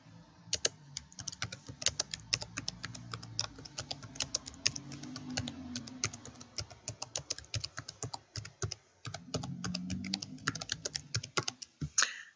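Close rapid typing on a computer keyboard, irregular bursts of crisp key clicks with short pauses between, ending with a few sharper keystrokes, no voices.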